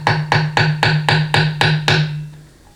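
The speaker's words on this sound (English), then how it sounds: "it'll go right in with a few taps with the hammer" A hammer taps a part into place during final assembly of a GM 200-4R automatic transmission rebuild, about eight evenly spaced, close metallic knocks over roughly two seconds, then quiet.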